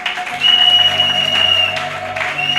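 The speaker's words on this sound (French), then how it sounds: "Acclamons pour la gloire de notre Dieu" A church congregation applauds, a full, sustained burst of clapping from many hands, loud and close, with a tonal hum and some crowd murmur underneath.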